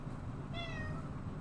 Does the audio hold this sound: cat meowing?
yes